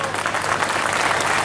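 Audience applause for Jorge Capitanich, a dense, steady burst of clapping from a crowd that fills the whole moment without a break.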